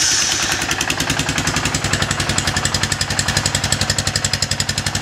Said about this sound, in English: Here's my foiler with stock exhaust.